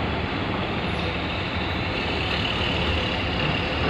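A Duta Trans bus rolls onto a ferry at Merak port, its engine a steady, broad rumble with continuous roadway and machinery noise and no pauses.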